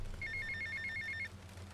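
A cell phone rings in GTA Vice City with a rapid, high electronic trill of about ten short pulses in one steady burst. It sits over a low game-ambience rumble and stops abruptly, with no talk over it.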